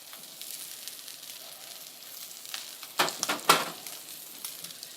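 Meat sizzling in hot oil, a soft steady hiss that swells into louder crackling bursts near the end, with no talking.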